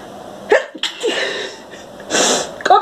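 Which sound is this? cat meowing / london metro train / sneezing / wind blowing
sneezing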